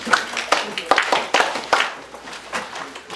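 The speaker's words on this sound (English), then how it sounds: "please clap for me" Classmates in a physics lesson clap for a student who stood up, giving a short run of sharp, uneven handclaps with a few voices mixed in.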